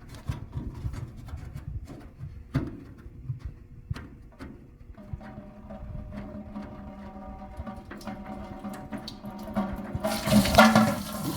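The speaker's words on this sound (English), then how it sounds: "drain spout right down here on the bottom of the radiator to drain the radiator out" Coolant drains from the bottom spout of a 1940 Ford 9N tractor radiator, a steady trickle and rush of liquid that grows louder toward the end, with some faint rubbing and knocking nearby.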